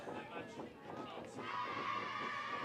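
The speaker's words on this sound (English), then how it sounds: "You can hear the crowd, you can hear the players getting loud on the bench" Crowd noise and softball players yelling from the bench at a women's softball game, a steady murmur of voices that swells louder midway and holds.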